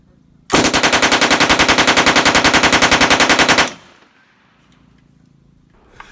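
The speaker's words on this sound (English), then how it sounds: "And your Sten is ready to fire." A WWII British Sten MKII submachine gun fires one sustained full-auto burst of about three seconds, rapid even cracks, loud and close, then quiet with faint handling noise.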